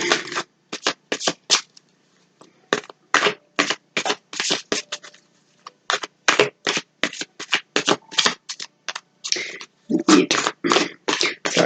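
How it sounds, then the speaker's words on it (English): Tarot cards being shuffled by hand, a long run of quick riffling bursts in uneven rhythm with brief pauses, close and fairly loud, no talking. "So I'm just going to give these ones here a quick shuffle"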